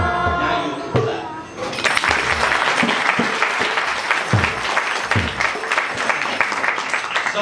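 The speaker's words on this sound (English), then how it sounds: "you can clap." An audience breaks into loud applause after a brief lull, with many hands clapping densely and some rhythmic louder claps, sustained until the end.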